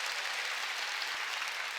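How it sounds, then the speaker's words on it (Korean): Church congregation at a New Year's Eve service applauding together, a dense continuous wash of clapping that holds steady and fairly loud throughout. "의형제를 깨달은 사람은 박수 치라고."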